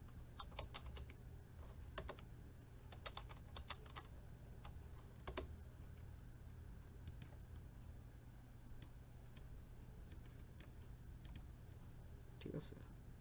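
Computer keyboard typing while entering data in Excel, with quick bursts of light key clicks and pauses between them, quiet and close over a low steady hum.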